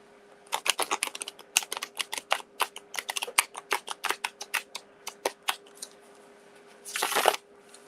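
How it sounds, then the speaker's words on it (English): Rapid, dense clicking and flicking of cards, ending in a short, rushing riffle as the deck is shuffled; nearby, no voices. "A couple more shuffles here."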